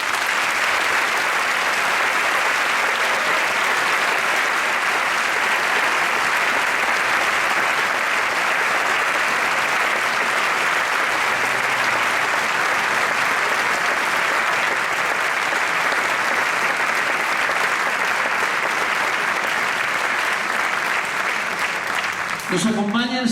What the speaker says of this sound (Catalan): I vull que vostès els premien en un aplaudiment.